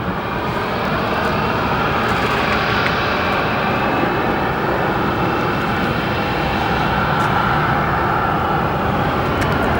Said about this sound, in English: Pushing back right now is a Southwest Max 8 headed to Denver